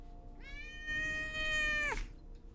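A house cat lets out a single drawn-out meow, rising and holding before trailing off sharply, close and fairly clear against a quiet indoor background.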